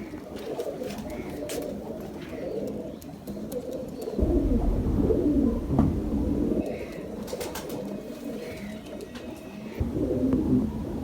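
Pigeons coo softly and repeatedly, with a deep rumbling background that swells partway through and some faint, indistinct voices in the distance.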